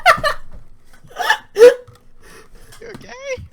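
A man hiccups during a Sven Co-op game session, the sharp hiccups breaking up his speech as he keeps talking close to the microphone.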